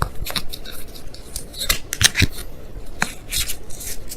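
Tarot cards are handled and shuffled, with crisp papery flicks, snaps and rubbing in irregular bursts close by, no talk.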